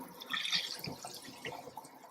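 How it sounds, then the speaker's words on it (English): A faucet sprayer rinses a deep farmhouse sink, giving a soft, uneven spray and splash of water against the basin, fairly quiet and with no talking. "It easily comes up, or comes off rather, with your gooseneck movement, so you can rinse your sink"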